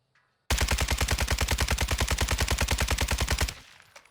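A KASTOV 762 rifle in Call of Duty fires one sustained, loud, close full-auto burst of about three seconds with steady rapid shots, then cuts off abruptly.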